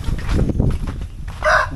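A rooster crows in a short, loud call near the end, close by, following a brief stretch of rough outdoor noise around the tethered bird.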